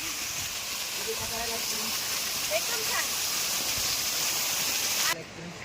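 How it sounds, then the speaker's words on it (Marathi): A steady, hissing rush of falling water from the waterfall at Harishchandragad's Kokan Kada cliff fills the scene at moderate distance, constant and broadband, with a faint voice in the background, cutting off near the end. "इकडे आहे हा धबधबा"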